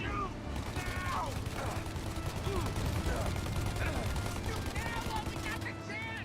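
Rapid gunfire in a Mafia: Definitive Edition shootout, bursts of shots and mechanical clatter crackling continuously at moderate level, with sharp transients and metallic ricochet-like whines scattered throughout.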